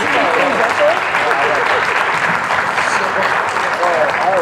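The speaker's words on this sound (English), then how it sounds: "nice round of applause" Wedding guests applaud the best man at a ceremony and speeches reception, a steady, dense round of clapping filling the room for several seconds, with crowd voices mixed in.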